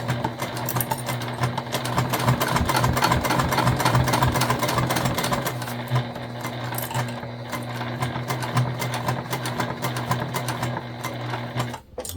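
A sewing machine stitching an ID holder runs in a steady rapid needle rhythm for about five seconds, then slows to lighter, sparser stitching and brief handling noises, close up with no voices.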